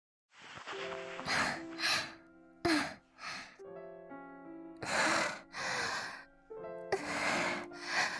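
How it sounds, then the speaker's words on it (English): Heavy breathing from the visual novel game Chaos;Child: several short, breathy pants and gasps, close and fairly soft, over a sustained musical backing. "Heavy breathing."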